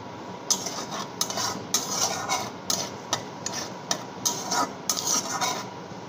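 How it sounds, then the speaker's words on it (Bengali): Cumin seeds spluttering in hot oil for a tempering, with a steady close sizzle broken by repeated sharp scraping and clinking of a spoon stirring against the pan. "ওই তেলের মধ্যে দিয়ে দেবো একটু জিরা ফোড়ন, জিরাটা একটু ভাজা ভাজা হোক"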